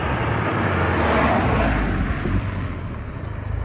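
A Mercedes CLA 45 AMG approaches with a steady, loud broadband engine and road rumble that swells slightly and then eases, with no voices over it.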